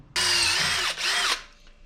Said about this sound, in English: we're gonna have to do a little drilling on this side